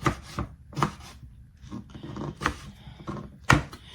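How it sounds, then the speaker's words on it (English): A knife chops half a tomato on a cutting board in a home kitchen, making a few sharp, irregular taps spaced apart. The sound is close and fairly quiet. "this was a half of a tomato that I had left that I'm just chopping up"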